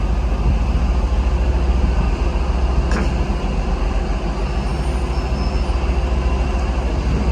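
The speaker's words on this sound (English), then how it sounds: "So our train approaching." A train approaches a station platform at Scunthorpe with a steady, loud low rumble and rolling rail noise that holds constant throughout, without any voices.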